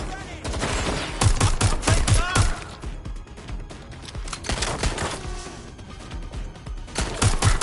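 Bursts of rapid gunfire from several weapons crackle in the game Watch Dogs Legion, loud and close, with a long volley, a short pause and then more shots over a background of ambient noise.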